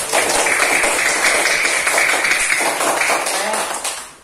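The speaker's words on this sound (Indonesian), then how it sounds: "beri tepuk tangan dulu" Dense, fast clapping from a class of students in an Indonesian primary school lesson, a loud, close patter lasting about four seconds before it stops abruptly.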